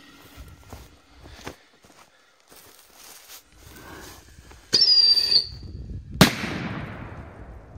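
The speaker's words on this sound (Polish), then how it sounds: "Szalone petardy" Scattered footsteps and scuffing, then a sudden burst from a Carbon P1231 firecracker with fizzing and a sharp loud bang that trails off.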